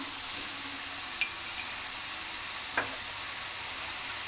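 Sliced onion sautéing in a mix of olive oil and vegetable oil, a steady, even sizzle at close range with a couple of faint ticks from the pan and no voices.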